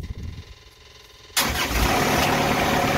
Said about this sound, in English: But I have to have the engine on.